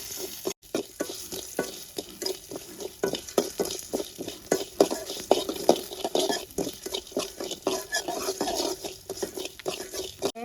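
Cumin and pepper roasting in a little oil in a pan for an Erode-style country chicken curry, a continuous sizzle broken by rapid, rhythmic stirring clacks of a spoon against the metal, close up with no speech.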